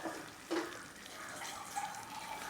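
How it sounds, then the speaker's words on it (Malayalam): Hot water splashes and trickles into a pan of Kerala egg curry, a soft, close, continuous pour with a couple of brief louder splashes. "അതിലേക്ക് ഇനി നമ്മൾ ആവശ്യത്തിന് വെള്ളം ഒഴിക്കാൻ പോവുകയാണ്."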